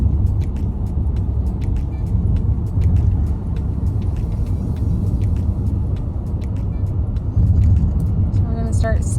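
A car drives along a residential street near a campus in Norman, Oklahoma, its steady road rumble and tire noise constant throughout, with someone talking over it and a few small clicks and rattles inside the cabin.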